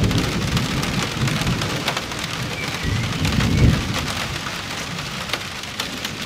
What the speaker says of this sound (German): Ich liebe Gewitter.